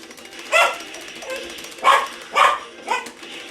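Dogs bark in the Streets of Rage Remake video game, four or five sharp, mid-loud yaps spaced unevenly over a few seconds against a quiet background.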